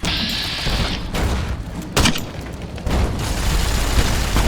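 Grenade explosions in the video game Fallout New Vegas, several loud broadband blasts at intervals, with sharp bursts near two and three seconds over dense game noise.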